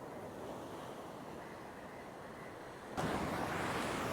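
Sea waves wash steadily onto the shore at Maruthamunai near Kalmunai, where the water has come unusually close to the coastal area; a continuous broad surf roar with wind, swelling louder near the end.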